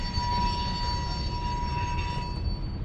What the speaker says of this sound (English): Sorry, there's a train right there.